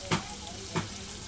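Young homegrown bitter gourd and pumpkin pieces fry in a pan for a chorchori, a low steady sizzle broken by two short, louder bursts of stirring.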